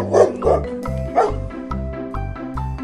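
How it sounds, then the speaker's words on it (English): A dog barks in a quick series of deep, woofing barks, several sharp calls in irregular rhythm, close and loud with nothing else behind them. "Number 1, dog."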